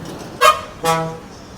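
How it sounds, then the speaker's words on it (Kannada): A vehicle horn on a busy road gives two short, fairly loud toots about half a second apart, with faint traffic noise around them. "ಟ್ರಾಫಿಕ್ ಇದೆ"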